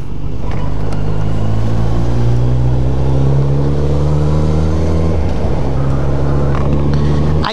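A Porsche sports car engine idling and warming up on a cold day, a loud, close, deep rumble with a steady low drone and slight wavering pitch, running continuously without talk.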